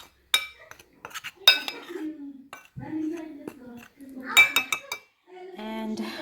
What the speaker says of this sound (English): I'm going to just mix it up a bit.